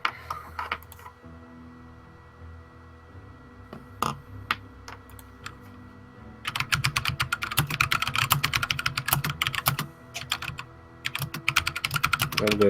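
Rapid, uneven keystrokes on a computer keyboard during an online tabletop role-playing session, faint and close. Typing comes in scattered bursts, then becomes denser and more continuous toward the end, with faint voices in the background.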